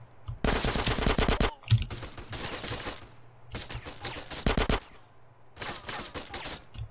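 Repeated bursts of automatic gunfire in Grand Theft Auto: San Andreas, four loud, rapid rattling volleys separated by short pauses, close and dominant with no talking.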